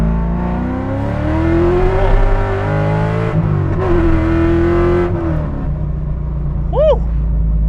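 A Chevrolet C5 Corvette V8 pulls hard in second gear, engine note rising steadily, dipping briefly at a shift, then climbing again, loud and close from inside the car.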